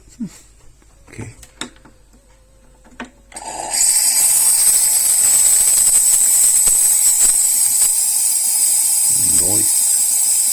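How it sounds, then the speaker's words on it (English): Steam hisses from a Klarstein Espressionata Gusto espresso machine, a loud continuous rush that cuts in abruptly after a few quiet seconds of small clicks and handling sounds, then holds steady to the end. "pump some more steam."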